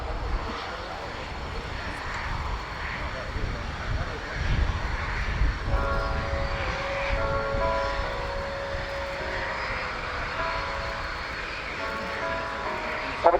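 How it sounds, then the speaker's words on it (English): An Italian Air Force C-27J Spartan twin-turboprop cargo plane flies past at an airshow display, its steady engine and propeller roar filling the whole stretch, with a rising tonal whine partway through and crowd voices faintly beneath. "Spartan is the only cargo aircraft in the world capable of performing vertical maneuvers"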